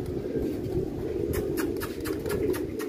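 Pigeons come down to land on a rooftop, with soft cooing and a few sharp fluttering wingbeats against a steady rumbling background.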